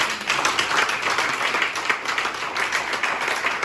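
A church congregation at a French worship service applauds the Lord, with steady, dense clapping from many hands filling the room at close range for several seconds.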